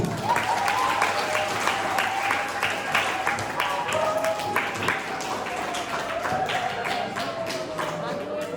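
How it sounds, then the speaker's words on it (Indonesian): A crowd claps steadily for several seconds at a health centre's stop-smoking talk, the applause sustained and fairly close, with a faint voice or tone running underneath. "Tepuk tangan dulu buat Ibu Nena."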